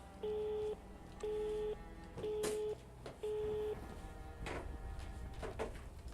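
Repeated busy-signal tones from a hung-up telephone in the horror game Rise of Insanity, four evenly spaced beeps pulsing in a steady rhythm over a low ambient room hum, with no talking.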